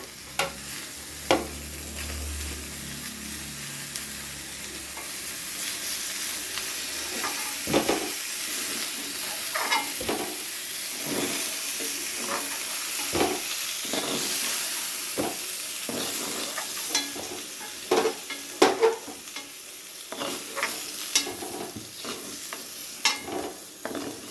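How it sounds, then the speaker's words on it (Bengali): Fried pointed gourd (potol) stirred in a pan with a steady sizzle, scraped by a utensil in repeated sharp strokes that turn louder and busier toward the end. "এবারে পটলগুলোকে তুলে নেব একটা পাত্রে।"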